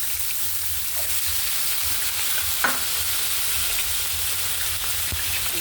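Chayote and carrots for chop suey sauté in a hot pan, a steady close sizzle with a few soft stirring scrapes and clicks.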